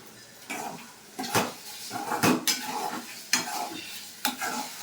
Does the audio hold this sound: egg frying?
yes